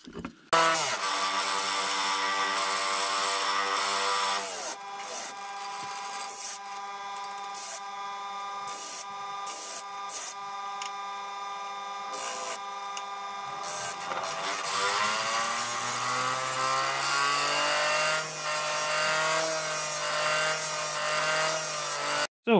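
A power tool shapes wooden table tennis racket handles with a loud, sustained whine and rasping that shifts in pitch as the wood is worked, with a few short interruptions and no speech.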